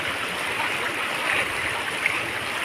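River stream flowing over rocks, a steady broadband rushing and gurgling that stays even throughout, moderately close and alone, with no voices.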